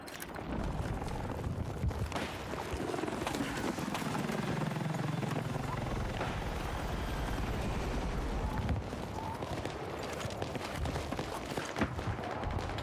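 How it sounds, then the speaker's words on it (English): An attack helicopter in the Battlefield 6 video game drones and swoops through a dense battle soundscape, its rotor noise rising and falling under steady distant gunfire and explosions for about thirteen seconds. "That attack helicopter hiding."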